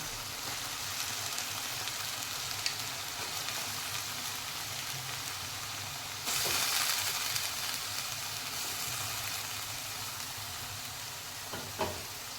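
Tender cowpea pods sautéing in a hot pan, giving a steady close sizzle throughout with occasional louder stirring scrapes and a brief surge of hissing midway, no talk.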